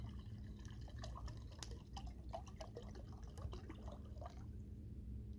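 Water dumped from a bottle into a camping pot at a snowy backcountry winter campsite, a splashing, dripping pour over a steady outdoor background hiss.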